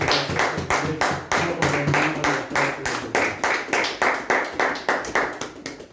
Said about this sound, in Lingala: On doit faire quelque chose, on doit acclamer très fort.